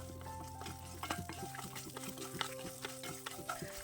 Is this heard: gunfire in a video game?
no